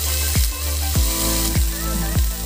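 Potatoes frying in oil alongside cauliflower for a Bengali curry, a loud steady sizzle punctuated by four regular stirring strokes against the pan, close up, with no voices.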